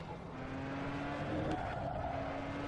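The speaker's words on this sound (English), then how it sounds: "you've just got 1200 brake horsepower's worth of wheel spin" A 1200-brake-horsepower turbopanzer race car spins its wheels in neutral in Assetto Corsa, a steady engine drone with squealing tire tones running continuously at moderate level, no talk.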